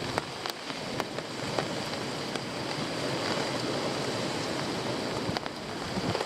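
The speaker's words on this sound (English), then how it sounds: "Wind and rain." Continuous rain and gusting wind roar steadily at a lake, with occasional sharp taps of drops striking nearby surfaces.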